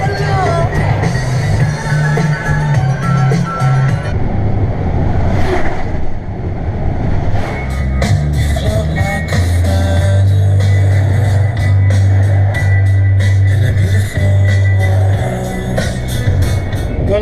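A Kenworth K200 truck drives with a low, close engine drone that shifts pitch and strengthens as it pulls. Light rattles and cab noise sit over it.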